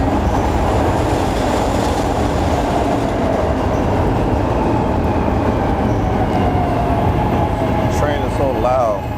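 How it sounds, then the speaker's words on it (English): A loud train rumbles past up close, its broad roar steady for the whole stretch, with brief wheel squeals rising near the end; people talk beneath the noise. "Train is so loud."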